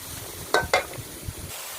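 Spring roll filling stir-fried in a pan, a steady close sizzle with two sharp scraping strokes of a utensil against the pan.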